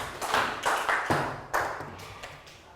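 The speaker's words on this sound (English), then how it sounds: "Round of applause." A small primary school class claps during a Year 3 maths lesson, a few short uneven bursts of nearby hand claps and taps that fade out within a few seconds.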